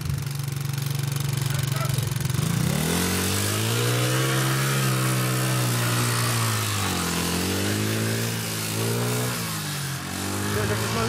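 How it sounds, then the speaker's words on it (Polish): An enduro scooter engine idles low, then revs up hard and holds a loud, rising and falling whine for several seconds outdoors on grass, with people shouting and talking over it. "Mówiłem, że to skuter enduro jest!"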